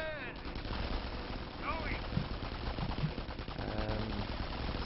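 Gunfire in a 4v4 Company of Heroes battle: rapid rattling machine-gun and rifle shots, fairly quiet and steady, mixed with distant battlefield noise and faint voices.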